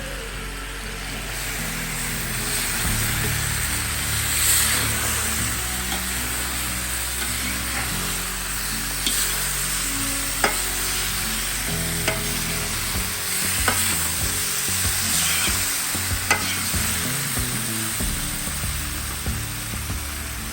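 Steady sizzling of vegetables and pre-fried potatoes frying in a pan, with scattered scraping clicks of a utensil stirring, continuous and fairly loud with no talking.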